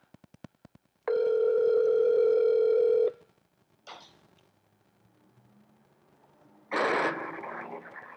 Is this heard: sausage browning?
no